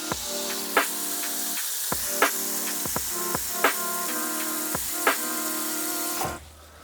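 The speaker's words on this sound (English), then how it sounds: "I'm just gonna cover everything with some fresh cold water" Fresh cold water poured steadily over chicken soup ingredients in a pot, a continuous filling rush with several brief clunks and splashes along the way, close and fairly loud, stopping abruptly near the end.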